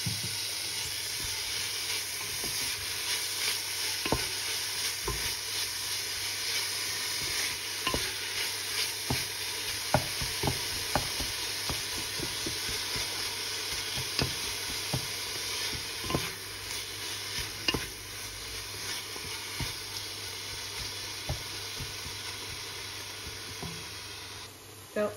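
Minced beef sizzles and steams in a frying pan while a utensil stirs it, with steady close hissing and frequent scraping taps against the pan throughout.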